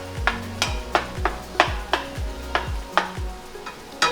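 An eggplant and tomato mixture warms in avocado oil in a pan, soft sizzling under rhythmic stirring scrapes and clinks of a utensil against the pan, repeating roughly every half second, close and moderate.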